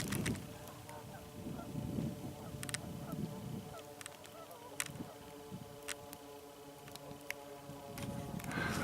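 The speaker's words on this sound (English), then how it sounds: "Just happened to be simultaneously a plane going by overhead and the geese flying by" Geese honking as they fly past along an ice-free river, a low drone of a plane passing overhead running beneath the scattered calls.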